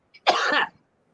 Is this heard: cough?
yes